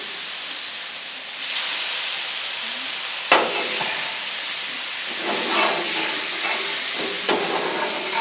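Gator burger patties sizzle steadily in a hot pan, a loud continuous hiss that swells as they are flipped, with a few sharp scrapes and clacks of a spatula against the cooking surface.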